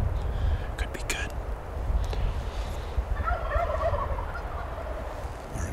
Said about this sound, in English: They're gobbling away